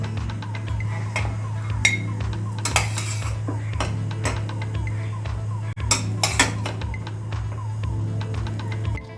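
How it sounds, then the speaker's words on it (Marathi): Masale bhat, a traditional Maharashtrian spiced rice, being served into a serving bowl: repeated metal spoon scrapes and clinks against cookware, close and fairly loud over a steady low hum. "त्यात आपण सर्विंग बाउलमध्ये काढून घेऊया"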